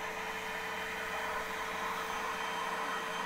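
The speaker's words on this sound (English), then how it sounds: "So you'll know that it's clean when you're only sucking up clean solution back through the little green." A Bissell Little Green Machine portable carpet and upholstery cleaner pulls suction with a steady, even motor whine and airy hiss, close and unbroken.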